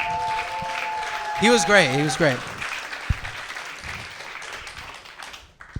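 Comedy club audience applauding a comic at Fourthwall Comedy Cafe, moderate clapping under a host's voice that talks over it, fading toward the end.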